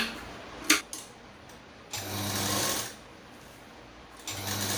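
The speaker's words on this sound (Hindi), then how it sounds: "तो यहाँ से यहाँ तक हम सिलाई लगाएंगे" A sewing machine stitches fabric for a stylish top in short close bursts, a whirring run of about a second, then a pause and another run starting at the end, with a sharp click early on.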